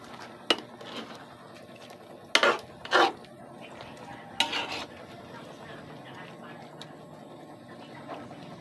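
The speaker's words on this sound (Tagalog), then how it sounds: "Haluin ko po muna." A spoon scrapes and knocks against a pot while chicken in coconut milk is stirred, a few distinct clinks and rasps standing out over a low, steady background with occasional talk.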